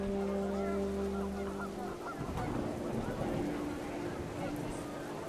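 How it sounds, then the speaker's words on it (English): Panicked geese honk repeatedly over a blustery, rushing wind backdrop in the video game What Remains of Edith Finch, the calls clear and fairly close, with a voice briefly audible. "panicked geese appeared and quickly went"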